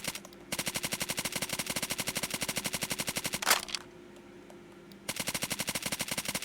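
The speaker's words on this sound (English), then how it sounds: "This is the first I go to shoot through the wall" Rapid automatic gunfire from a video game, shooting through a wall, fires in long steady bursts with one sharper, louder crack between them, then a brief lull before the bursts resume close and loud.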